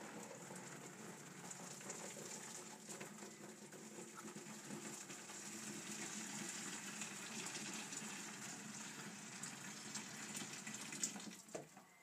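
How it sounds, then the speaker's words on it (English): Boiling water pours steadily into a Woodford's homebrew beer kit, six pints going in as one continuous, close, gushing stream with a light splashing hiss that never lets up. "We're going to put 6 pints of boiling water in."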